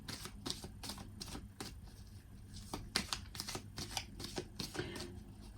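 Cards riffle and snap in quick bursts, a deck being shuffled close by in several rapid passes with brief pauses between.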